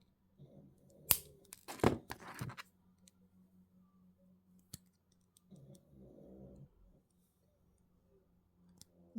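Wire snipped with jewellery cutters while making earrings: a few sharp clicks and snips close by, with quiet handling rustle between them and no talk.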